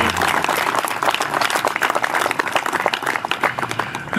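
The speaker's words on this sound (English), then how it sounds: "round of applause" A crowd at a Navy ceremony applauding steadily, dense rapid clapping filling the whole stretch at a loud, even level.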